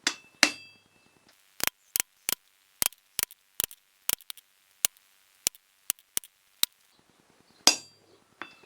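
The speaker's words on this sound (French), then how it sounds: "Et avec un burin, sur toutes les faces, je vais faire une rainure au milieu." A hammer drives a chisel into hot forged metal to cut a groove, giving sharp ringing metallic strikes at a steady, slightly irregular pace, loud and close, with no voices.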